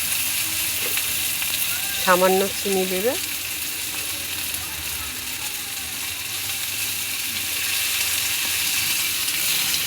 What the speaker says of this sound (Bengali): মশলাটা এখন ভাজা হচ্ছে